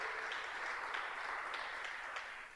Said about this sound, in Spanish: Vamos a darle palmas fuertes a Multimedia.